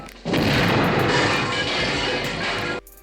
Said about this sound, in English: Oh, and did I mention explosions?